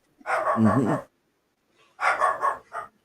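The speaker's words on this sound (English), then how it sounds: "he's barking at Pepper, our Pomeranian" A dog indoors barks at a Pomeranian in the backyard, giving two bursts of loud, close barking separated by a short pause, the second burst ending in a quick extra yap.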